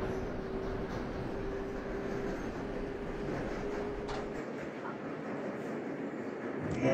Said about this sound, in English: This train is fully out of Grand Central Station now.